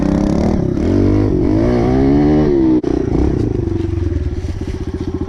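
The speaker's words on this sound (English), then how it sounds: "it's definitely a good spot to practice on the pit bike because you can get some good slides." A pit bike rides a soft dirt track in the woods. The engine is loud and close, its revs climbing and falling, then it settles into a throbbing idle after a brief cut.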